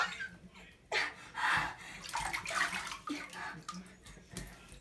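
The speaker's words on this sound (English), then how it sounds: "Turn on the shower, dude." Running water from a shower pours with a continuous splashing hiss, surging and shifting as something moves through the spray, while voices talk faintly underneath.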